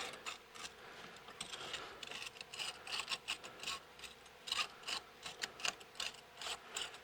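A wrench ratchets in short, rhythmic clicking bursts, close and fairly quiet, as a race car's corner ride height is adjusted by two turns during corner weighting.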